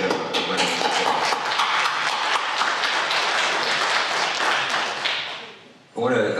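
Sustained round of applause from a conference audience at an opening session, dense steady clapping that fades out near the end before a voice begins speaking.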